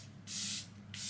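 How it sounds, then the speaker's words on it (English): Charlotte Tilbury makeup setting spray misted close up in two hissing bursts, a longer spritz followed by a shorter one, with no talking. "I'm just gonna set it with the Charlotte Tilbury"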